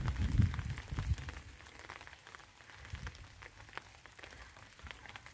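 Autumn rain falls steadily outdoors on a walk, a soft broadband patter with a few louder low thumps near the start, fairly faint and with no one talking.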